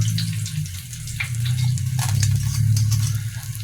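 Fish frying in hot oil, a steady close sizzle and crackle with scattered pops, continuing without talk.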